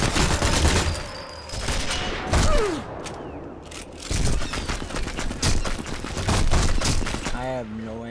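Sniper rifle shots in Sniper Elite 4, a handful of loud cracking bursts spread through a busy game scene with rumbling background sounds.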